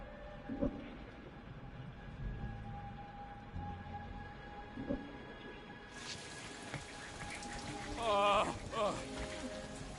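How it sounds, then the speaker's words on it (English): Steady rain patters down in the sci-fi shooter Anthem, a constant wash with occasional drips, while voices talk over it and a brighter hiss enters midway. "Peter Quill is dilly-dallying in the rain"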